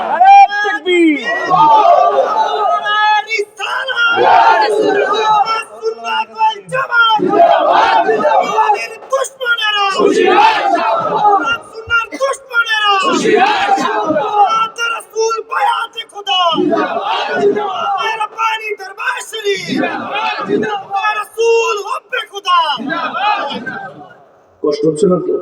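A large crowd at an outdoor religious sermon gathering chants in loud, repeated collective shouts, with rhythmic surges of many voices answering a call, dense and continuous through the clip.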